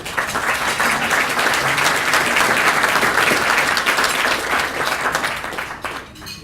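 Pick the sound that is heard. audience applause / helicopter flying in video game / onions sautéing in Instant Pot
audience applause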